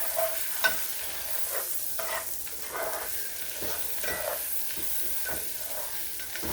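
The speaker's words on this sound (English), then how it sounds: "I got a little bit of butter in here. We're going to add our onions, and we're going to cook that until it softens." Onions cook in butter in a skillet, giving a steady close sizzle with light scraping and stirring throughout and a few small pops.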